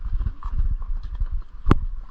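Horses walk along a Montana trail, their hooves clip-clopping in a steady close rhythm, with a brief sharp knock near the end.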